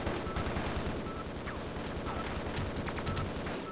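Rapid bursts of gunfire from the video game Half-Life: Blue Shift, dense and continuous over game sound, with no speech.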